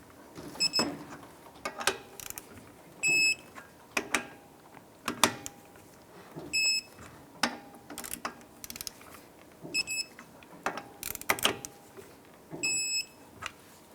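Lug nuts on a Ford Escape wheel are torqued down with a torque wrench: repeated ratcheting clicks in short bursts, several with a high electronic beep as the set torque is reached, fairly quiet and close, no talking.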